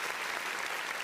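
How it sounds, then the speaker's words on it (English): A brief, even patter of applause, steady clapping of moderate loudness with no other sounds standing out. "So round of applause."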